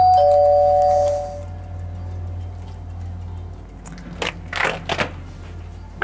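A smart home doorbell rings once with a clear sustained chime that fades after about a second, followed by a low hum and a few clattering knocks.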